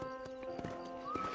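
A horse in the video game Red Dead Redemption gives a brief whinny over soft clopping hooves, faint and short.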